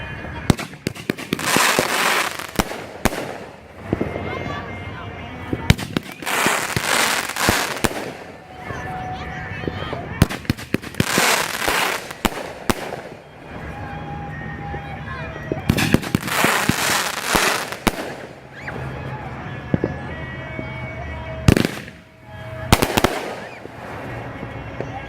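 Bursts from a Flying Proud 500 gram firework cake out of a WF Boom assortment, launching in loud repeated volleys of booms and crackling pops with short pauses between barrages, and occasional voices in the background.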